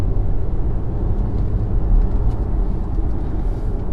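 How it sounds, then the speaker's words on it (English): A 2018 Audi Q5 with a 250-horsepower engine climbs a hill in fifth gear, giving a steady low engine drone and road rumble from inside the cabin, with no talking over it. "just shut up and just listen to the engine"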